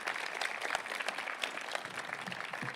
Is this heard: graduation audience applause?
yes